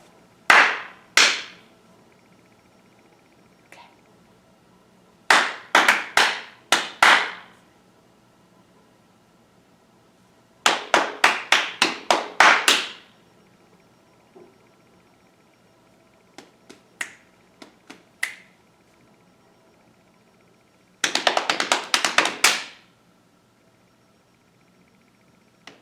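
During a primary school music lesson, hand claps come in short rhythmic bursts, groups of two to six sharp, close claps separated by pauses, with fainter answering claps in between.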